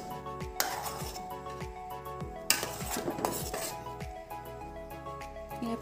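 Vegetables being cut in a home kitchen for vegetable pasta: a series of sharp knife taps and clinks against a board and utensils at a fairly regular pace, with faint music underneath.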